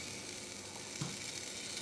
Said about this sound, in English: Just gonna stick it straight on the electric grill that's been preheated.